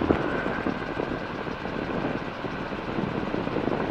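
Helicopter lining up on a runway center line, a steady broadband rotor and engine roar with no pauses, heard from inside the cabin.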